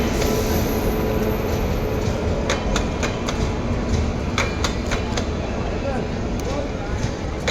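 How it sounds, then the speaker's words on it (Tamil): A train arriving from Delhi rumbles steadily nearby with clattering wheels and occasional metallic clicks and squeals, over a continuous busy din with voices at Prayagraj railway station during the Kumbh Mela. "இன்னொரு ட்ரெயின் வருது."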